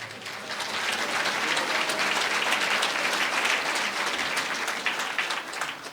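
A church congregation breaks into strong applause, a full, steady roar of clapping hands that swells and holds for several seconds before thinning slightly at the end, with no voices.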